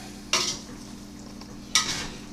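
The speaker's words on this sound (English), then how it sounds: "So now it's a matter of just mixing it up and seeing if that's enough." Pulled pork sauce being mixed in a pot on a kerosene stove gives two sharp scraping stir strokes over a low steady background hiss, no talking.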